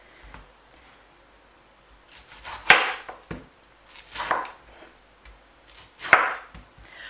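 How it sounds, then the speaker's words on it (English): Knife strokes chop pineapple into small pieces on a board, three distinct sharp chops spaced a second or two apart with softer taps between, close and clear in a quiet kitchen. "So we're going to chop our pineapple into small pieces and put in the pot."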